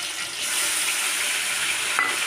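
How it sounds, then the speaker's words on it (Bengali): Ground cumin, chilli and ginger paste fries with eggplant in a pan, giving a dense, even sizzle that stays loud and close for the whole stretch, with a faint stir near the end. "বেটে রাখা মশলাটা দিয়ে দিলাম"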